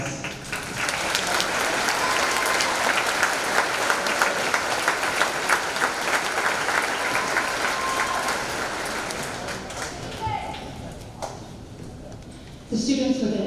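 A crowd at a high school graduation ceremony applauds honor students, a long, dense, steady round of clapping that tapers off near the end, followed by a short bump of noise.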